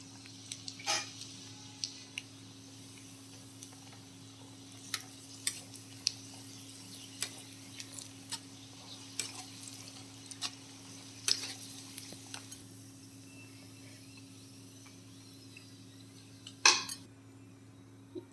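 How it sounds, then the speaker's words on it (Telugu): Raisins and cashews frying in a pan for poha mixture, with a steady low hiss and repeated sharp clinks of a spoon stirring against the metal pan, loud taps scattered throughout and no talking. "ఈ విధంగా గోల్డ్ కలర్లో వచ్చే వరకు ఫ్రై చేసుకొని తీసేసుకోవాలండి"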